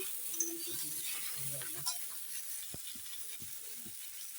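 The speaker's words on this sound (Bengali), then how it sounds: "আমি সবজি দেওয়ার পর আমি এখন ভালো করে নেড়ে নিচ্ছি" Mixed vegetables fry quietly in a pan with a low hiss while a spatula stirs them, giving soft scrapes and occasional clicks. A voice murmurs faintly underneath.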